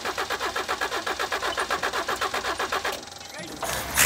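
A 1978 Toyota Wolverine 4x4 engine cranks with a fast, rhythmic starter chug for about three seconds, then catches and roars to life at close range, with a brief quiet gap before the running note swells.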